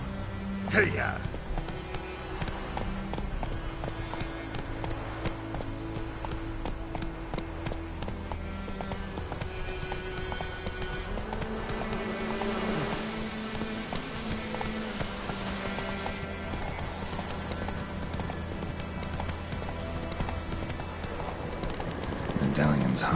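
Horses gallop in The Witcher 3 video game, with a steady clip-clop of hooves running under continuous music and spoken dialogue throughout.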